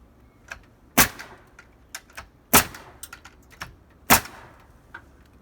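A nail gun drives nails into roof rafters, giving three loud sharp bangs about a second and a half apart, with lighter clacks and knocks of handling in between, close by and without talking.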